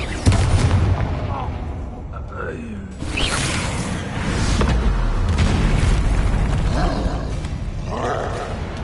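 Confringo blasting spell explosions in the video game Hogwarts Legacy, heavy booming blasts with roaring rumble and crackling debris, loud and close, repeating across a chaotic combat scene with shouted spell voices mixed in.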